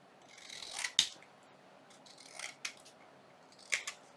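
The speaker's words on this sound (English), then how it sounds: "I'm going to trim this out." Scissors trimming paper for a junk journal fold-out, three or four short, crisp snips spaced apart against a quiet room, close to the microphone.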